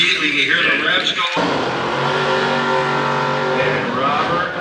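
A Pontiac drag racing car with a 455 engine at the Pontiac Nationals strip, engine noise roaring loud and steady with rising rev tones, under an announcer's talk.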